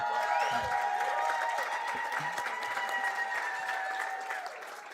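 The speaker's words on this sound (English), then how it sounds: "So please, a big, big round of applause." Applause from the audience at a health conference closing ceremony, a steady wash of many hands clapping that holds evenly and fades slightly near the end, with faint tonal sounds underneath.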